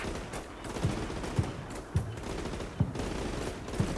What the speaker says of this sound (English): Alright, it's a ranging shot.